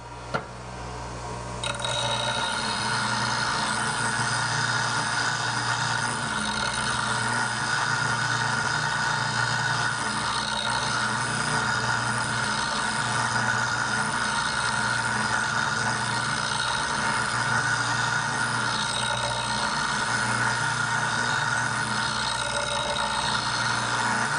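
A bench grinder sharpening a woodturning gouge, its motor humming in a steady whine while the tool is pressed against the wheel, continuous and close for the whole stretch.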